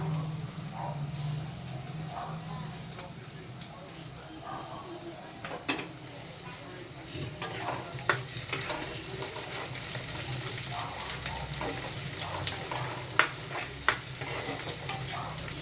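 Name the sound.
onion, ginger and garlic frying in a pan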